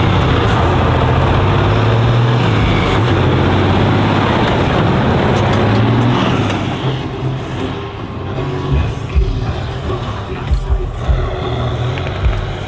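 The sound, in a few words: old Eastern Bloc military vehicle engine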